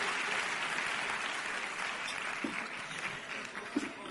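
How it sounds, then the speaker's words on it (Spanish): A convention audience claps in a steady wash of applause that stays broad and even, then tapers slightly toward the end, with a couple of louder claps near the close. "Nuestro gran aplauso esta noche por hacer posible esta convención."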